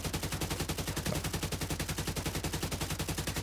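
A full magazine emptied in a video game, rapid evenly spaced automatic shots hammering on without a break, loud and close, with no pause between rounds.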